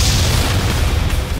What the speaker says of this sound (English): Fucking explosion.